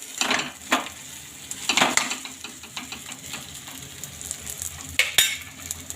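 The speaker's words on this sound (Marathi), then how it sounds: "हे वांगे जे आहेत ते छान आपले फ्राय होते" Brinjal pieces fry in oil with salt in a pan, giving a close, crackling sizzle. Irregular bursts of louder spattering and scraping stir sounds come through, and no one speaks.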